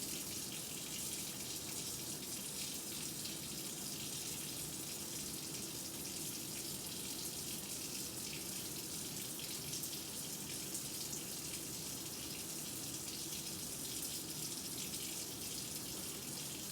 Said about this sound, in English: Scrub wrists by encircling with hands, then scrub back of each hand with cupped opposite hands.